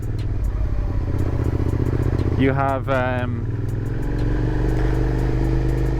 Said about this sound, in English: The bike does sound great though. The exhaust is just right